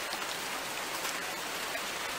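Steady rainfall during the rainy season in The Gambia, a dense, even hiss of drops hitting surfaces that continues without a break, fairly faint and with no voices.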